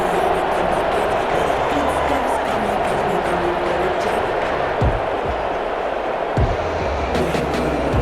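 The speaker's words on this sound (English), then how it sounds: "How about some applause for the defense there?" Crowd applause and a stadium roar in Madden NFL 21, a Carolina Panthers versus Los Angeles Chargers game, a steady wash of noise that continues under commentator talk.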